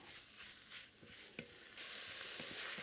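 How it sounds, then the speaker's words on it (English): Beef stirred into sweated vegetables in a pan, a soft, fairly quiet sizzle with a few stirring scrapes, growing louder and brighter toward the end, no talking. "The vegetables have sweated out nicely, so let's add in the beef. We'll just stir that in."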